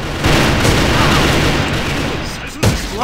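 A grenade explodes in the online shooter AVA, a loud, dense roar of blast and gunfire filling the scene, with a sharp crack near the end.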